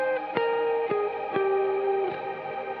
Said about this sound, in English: That kind of just creates like the general reverb sound.